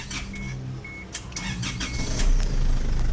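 Isuzu D-Max TCI pickup with a 4JH1 diesel engine and a low-power fault, starting up: a brief crank, then a steady idle that grows slightly louder toward the end, heard close with no talking.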